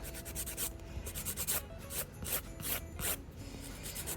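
Hand filing of builder gel nails gives quick, repeated rasping strokes in a steady back-and-forth rhythm, close and fairly soft, with no talking.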